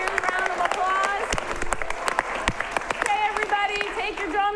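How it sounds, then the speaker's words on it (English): Audience applause and cheering at an improv comedy show for the bar staff, door staff and volunteers, lively clapping with whoops and voices mixed throughout. "let's give all the bar staff and the door staff and the volunteers a round of applause"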